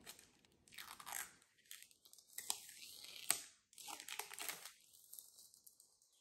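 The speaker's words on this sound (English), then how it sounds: "Very thin plastic film." Very thin plastic film on a Samsung refrigerator water filter crinkling and rustling in close, quiet bursts, with pauses between handlings.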